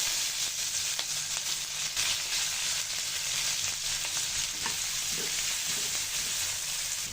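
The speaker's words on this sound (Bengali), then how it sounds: "পেঁয়াজ কাঁচামরিচটা একটু তেলে ভেজে নিব।" Sliced onion and green chilli fry in oil in a pan with a steady, close sizzle and occasional faint stirring sounds, and no talk.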